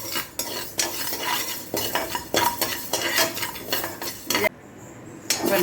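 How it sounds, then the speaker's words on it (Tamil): Moong dal lightly roasted in a pan for pongal, stirred with a ladle in steady, repeated scraping and clinking strokes against the pan, close and fairly loud, with a brief quiet pause near the end and no talking. "பைத்தம் பருப்பு ஒரு கரண்டி குழிக்கரண்டி ஒரு கரண்டி எடுத்து அதை லேசாக வறுத்துக்கணும்"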